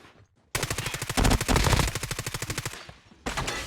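Rapid automatic gunfire in a mobile shooter game, a loud burst of evenly spaced shots lasting about two and a half seconds, followed by a brief pause and another burst starting.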